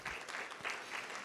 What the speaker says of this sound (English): Y'all give her a round of applause for that.